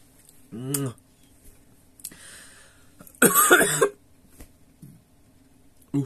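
A single loud, rough coughing fit, close and raspy, with a few quieter sounds before it and near silence afterward.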